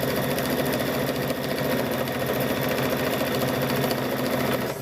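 A sewing machine stitches quilt strips for an abstract quilt, running in a steady, fast mechanical hum with rapid needle clatter that continues close and unbroken for the whole stretch.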